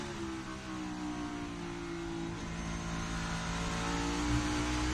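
A NASCAR Cup Series stock car starting its qualifying lap at Watkins Glen, a loud low engine drone that rises into a building roar as the car accelerates, heard steadily close with no voices.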